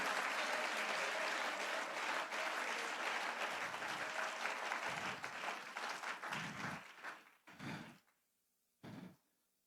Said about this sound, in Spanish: Alguien que le dé un aplauso y me le entregue al Señor gloria, honra, adoración